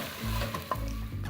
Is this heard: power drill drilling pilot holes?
no